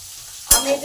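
Potatoes dropped into hot oil in a pan with turmeric and cumin, a sudden loud splash followed by a bright crackling sizzle that carries on and settles after a near-silent start, with no talking.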